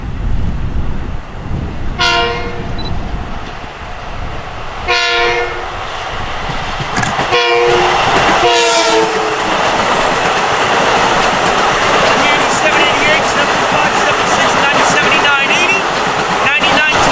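Long Island Rail Road train running between Ronkonkoma and Hicksville, loud continuous wheel and track rumble with several horn blasts and a recorded announcement voice speaking over it.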